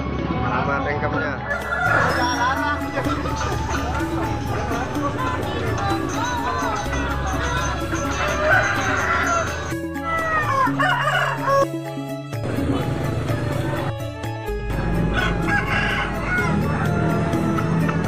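Chickens, roosters and colourful chicks crowd a stall at Pasar Mayang market. Roosters crow loudly and hens cluck continuously against a busy market hum, with people talking nearby.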